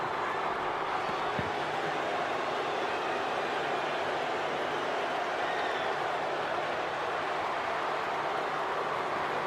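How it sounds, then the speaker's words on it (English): Wrestling arena crowd in the WWE 2K26 video game, a steady loud roar of many voices and cheering that fills the whole stretch without a break. "crowd don't want Gunther to win here tonight"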